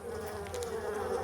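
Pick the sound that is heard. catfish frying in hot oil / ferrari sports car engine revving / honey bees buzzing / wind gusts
honey bees buzzing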